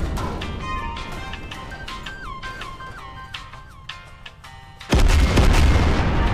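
Tanks firing and explosions in a mobile physics sandbox game: a string of bright synthetic blips and pops, then a sudden loud, sustained booming blast rumble near the end.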